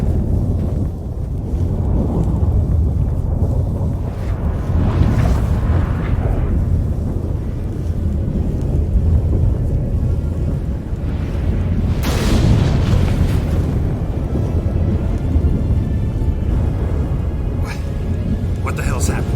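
A stormy, thundery roar fills The Witcher 3: Wild Hunt, with rumbling booms and wind that swell twice to loud peaks under steady low noise, while voices talk throughout.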